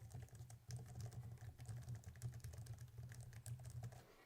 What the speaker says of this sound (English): And typing on it, this is kind of what it sounds like.